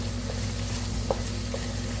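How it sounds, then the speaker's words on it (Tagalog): Onion and garlic sauté in a pan as the base for ginataang kalabasa with pork, giving a steady, moderately quiet sizzle with a few soft clicks of stirring and no talk. "Saute ako dito ng onion and garlic na."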